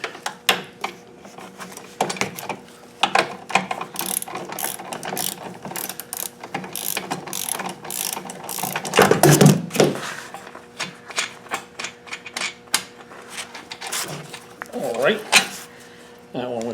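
A pressure washer pump being unbolted from its engine: rapid ratchet clicks in repeated bursts, metallic tapping and clinking of tools and parts, with someone talking throughout.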